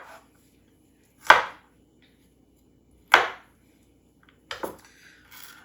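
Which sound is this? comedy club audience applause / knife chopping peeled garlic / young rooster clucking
knife chopping peeled garlic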